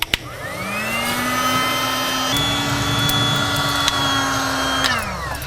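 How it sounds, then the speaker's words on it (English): A Kamado Joe electric blow lighter fires up charcoal in a kamado grill, a loud steady fan whine that spins up, holds for several seconds with a slight shift in pitch, then winds down, with no speech. "today I'm going to use the Kamado Joe blow lighter to get this going"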